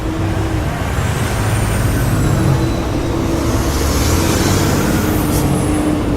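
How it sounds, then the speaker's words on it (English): A loud truck passes on a roadway, its heavy engine rumble and broadband road roar holding steady and close for several seconds with a hiss of air brakes, no talking over it. "Let this truck go by. The loud ass truck."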